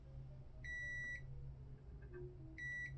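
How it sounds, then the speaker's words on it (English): Two short electronic beeps from a multimeter continuity tester signal a short on a laptop board, each about half a second long with a pause between, clear but modest in level over a low background hum. "then we should hear a beep if it detects a short"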